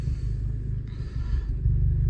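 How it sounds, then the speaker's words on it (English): A 2015 Audi S3 Quattro with a Stage 1 remap at about 350 bhp and a modified exhaust runs at idle after starting, a steady low rumble close by with a slight lift near the end. "I'm going to start the car up now for you to have a listen to the engine."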